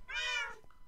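A cat meows once in a Hunger Games mode of a video game, a single clear, drawn-out, rising-and-falling cry close up, followed by faint game noise.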